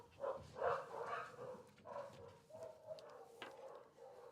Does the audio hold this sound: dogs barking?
yes